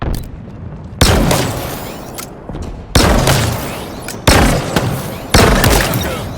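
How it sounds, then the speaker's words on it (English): An electric sniper rifle in the Halo Infinite multiplayer video game fires five times at uneven intervals. Each loud, booming discharge decays slowly, with game noise between the shots and no speech over them. "Here's an electrical sniper rifle."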